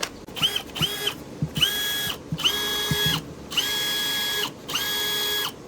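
A DeWalt DCF620 20V brushless cordless drywall screwdriver, freshly serviced, runs in a series of short bursts, each a steady high motor whine lasting about a second, separated by brief pauses and clicks, close and loud with no talk.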